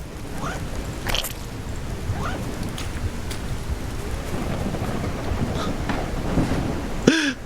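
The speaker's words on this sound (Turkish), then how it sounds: "Rüzgar sesi ya." Steady rushing wind and storm noise in the fishing video game Gone Fishing, a continuous broadband roar with a few brief sharper gusts, loud and unbroken through the whole stretch.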